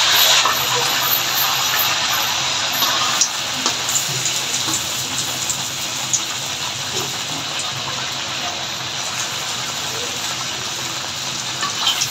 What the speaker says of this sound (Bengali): তো এখন তেলটা গরম হয়ে গেছে, আমি এই যে লুচিটা ঢেলে দিয়ে দিচ্ছি।